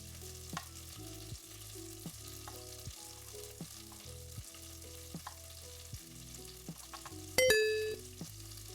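Faint, steady sizzling of meatballs (polpette) frying in a pan, with a few clinks and a brief brighter chime near the end.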